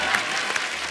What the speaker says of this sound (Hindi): अब आपकी जोरदार तालियों के बीच इनवाइट करना चाहूंगा मिस्टर ऐश किंग